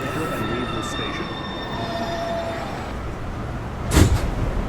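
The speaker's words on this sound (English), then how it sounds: "This is a Manhattan-bound 1 train." A New York City subway 1 train rumbles loudly through 207 Street station, its wheels whining with high, sustained squeals, then a sharp clunk near the end.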